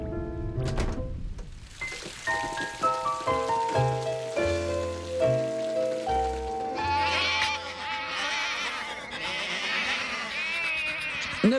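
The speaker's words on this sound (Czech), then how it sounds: "Nebojte, pane Rankins, ano, vaše ovce jsou u nás, jsou v bezpečí" Sheep bleating in an animated Curious George episode about a shepherd: wavering, quavering bleats rise out of a noisy wash after a descending run of musical notes.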